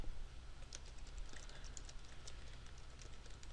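Keystrokes on a computer keyboard while writing a document in Word 2010, a steady stream of fairly faint clicks at close range over a low background hum, with no voices.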